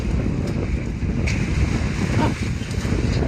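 Strong typhoon wind roars steadily and loudly throughout, a constant rushing buffet with low rumbling gusts and no voices.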